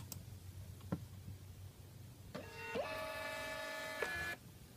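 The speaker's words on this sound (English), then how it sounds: "obviously it won't print in colour because it's a thermal printer" A Dymo thermal label printer whirs through a print job: a few faint clicks, then a steady high motor whine for about two seconds that ends abruptly, close and quiet with no talking.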